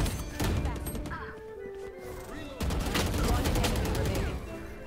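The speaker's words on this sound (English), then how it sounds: "Precise gunplay." Gunfire in a shooter video game, with bursts and rapid shots crackling over a busy mix of game sounds while players talk over it.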